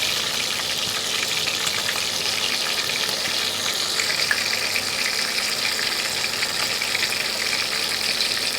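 Fish fries in a pan with a steady, loud, close sizzle and crackle that stays constant throughout, with no voices.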